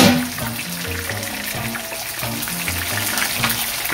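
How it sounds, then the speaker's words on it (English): Parrot fish and snapper frying in oil in a pot on a stove, a dense, steady sizzle and crackle heard up close, continuous throughout with no talk. "your fish is frying nicely, you leave it at the level it is"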